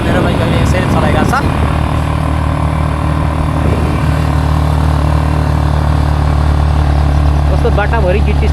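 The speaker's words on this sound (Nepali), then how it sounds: "मेरो बाइक अहिले यसरी चलाइरहेछ।" A motorcycle ridden along a gravel-strewn road near Kathmandu: a loud, steady low engine drone holds throughout, with a few brief voice-like sounds at the start and end.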